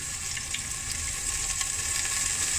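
Cold pressed rapeseed oil heating in a big pan, giving a continuous bright sizzling hiss with fine crackles, close and even, no voices.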